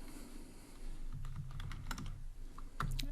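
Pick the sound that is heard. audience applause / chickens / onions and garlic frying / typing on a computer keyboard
typing on a computer keyboard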